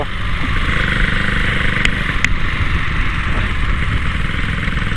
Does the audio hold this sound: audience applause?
no